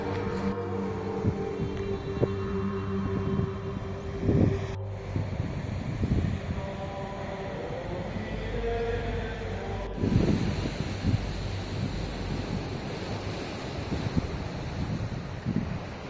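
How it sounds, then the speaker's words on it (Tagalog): Strong ocean waves at Pusan Point, Caraga, rolling and surging under heavy wind buffeting the microphone, with music faintly in the background. "Makita natin yung kung gaano kalakas ang alon dito sa lugar na to."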